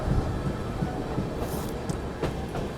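Sampark Kranti Express rolling slowly off for shunting, a steady rumbling train noise with soft rhythmic wheel clatter and a few faint high squeals, heard from close by on the platform.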